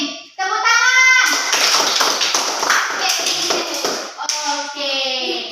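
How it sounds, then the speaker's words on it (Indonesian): Children in a classroom burst into a round of applause right after a closing prayer, dense clapping filling several seconds, with a teacher's voice speaking before and after it. "Tepuk tangan."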